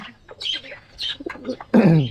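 A pigeon gives a few short, uneven calls close by, ending with a louder, fuller burst.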